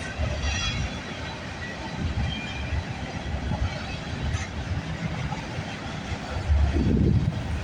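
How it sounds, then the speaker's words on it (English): A CN M301 freight train rolls past at Milton, Ontario, a loud, steady rumble of wheels and rail cars with clattering and a faint squeal near the end. "Symbol on this train is CN M301."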